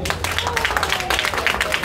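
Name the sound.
audience applause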